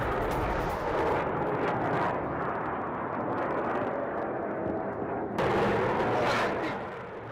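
Israeli air defense intercepts Iranian missiles over Tel Aviv, with distant booming blasts and a continuous rumbling roar, fairly faint, rising and falling across the stretch.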